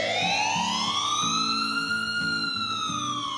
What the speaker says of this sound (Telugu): అదిగో అంబులెన్స్ వచ్చేసింది